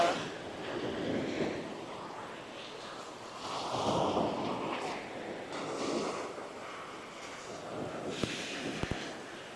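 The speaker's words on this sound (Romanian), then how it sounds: "Sunt și valuri și asta o face să fie mult mai frumoasă." Sea waves roll onto a Phuket beach, surging and washing in several slow swells with wind noise between, and no one speaking.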